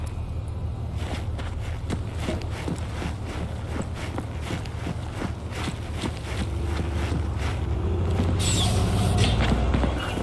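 A vehicle engine idles in Cyberpunk 2077 as a low, constant rumble beneath a run of clicking footsteps, swelling a little louder toward the end.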